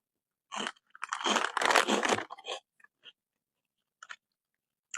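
Crunchy bites into a fried, fish-shaped chip-like snack made from maida flour, with a dense burst of crisp chewing in the first two seconds and a few sparse, fainter crunches after.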